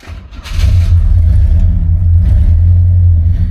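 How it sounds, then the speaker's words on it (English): A 1970 Buick LeSabre engine cranks briefly and catches when started by push button, then settles into a loud, steady low rumbling idle close to the microphone. "when you start the car and when you turn the car off. And second, we got a push button start."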